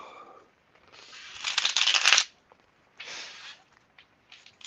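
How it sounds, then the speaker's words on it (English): A deck of playing cards is shuffled up close, a dense papery riffle building and cutting off, followed by shorter bursts of card handling. "Give it one last shuffle."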